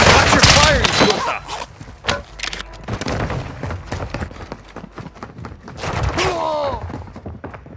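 Loud, irregular gunshots and sharp cracks in the Call of Duty: Modern Warfare II video game, mixed with shouted voices throughout.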